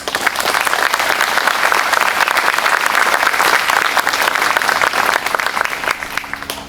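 Loud, dense applause from the audience at the Oak Ridge Military Academy graduation ceremony honoring the cadets' parents, with continuous crowd clapping that is strong throughout and tapers slightly at the end.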